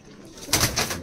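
Andhra Madras pigeons in a loft give a brief burst of cooing, rising suddenly after a quiet moment and continuing faintly.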